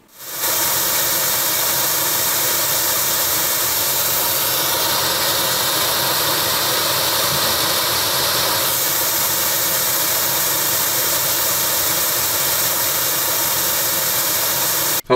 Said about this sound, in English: I'm gonna play white noise as loud as the speaker can go